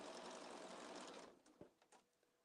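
A sewing machine stitches a Little Miss and Mr Men cushion in a steady, busy whir for over a second, then stops, leaving a few faint clicks and taps of handling.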